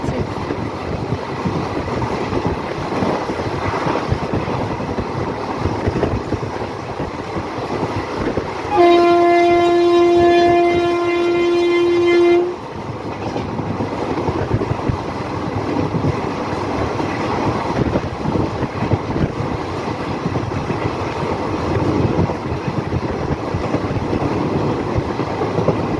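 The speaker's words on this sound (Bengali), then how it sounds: "কিন্তু ট্রেনটা প্রচণ্ড গতিতে চলছে" A passenger train travelling at high speed between Buniadpur and Gangarampur rumbles steadily and loudly, with a sustained horn blast sounding for several seconds in the middle.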